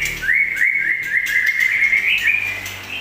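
Several white-rumped shama (murai batu) birds call in a dense, continuous stream of bright chirps and whistled trills, loud and close, with a faint hum beneath.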